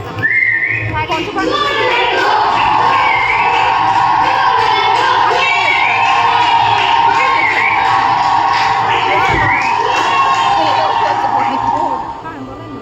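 A crowd cheers loudly at a road roller, with shrill whistling, whoops and children's shouts blending into one sustained roar for about twelve seconds before trailing off.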